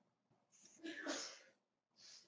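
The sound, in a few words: sneeze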